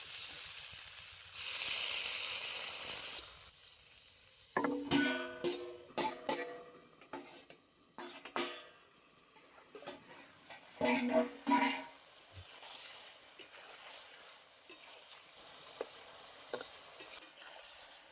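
Radish and eggplant, cooked with prawns, hiss as a splash of water hits the hot pan, then a utensil clatters and scrapes in bursts while the vegetables simmer and sizzle quietly between strokes.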